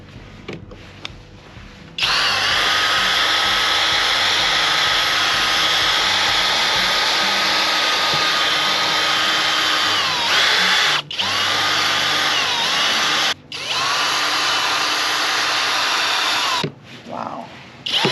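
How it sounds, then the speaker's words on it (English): A power drill spins a 3M sanding disc to wet-sand a cloudy car headlight, a loud steady whine running almost continuously with two brief stops, after a short quieter start. "This is the final disc, and this is for wet sanding, I guess."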